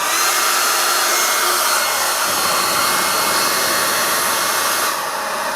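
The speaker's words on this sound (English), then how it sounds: "So let's try the Panasonic on full power." A Panasonic hair dryer running on full power gives a loud, steady whooshing roar of airflow with a constant motor whine, unbroken for several seconds with no talking.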